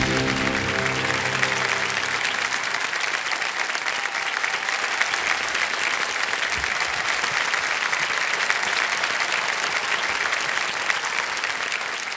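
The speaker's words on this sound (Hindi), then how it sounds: "तालियां बजा उनके लिए।" A studio audience on the Hindi quiz show Kaun Banega Crorepati applauds a contestant reaching the leaderboard, a loud, steady, continuous roar of clapping that stays even from start to finish.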